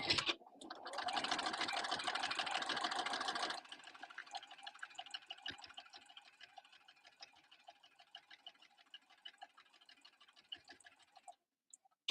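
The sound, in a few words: sewing machine top stitching binding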